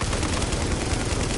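Dense rapid gunfire in the video game The Division, a continuous burst of automatic shots that is loud and close, filling the whole moment with no talk over it.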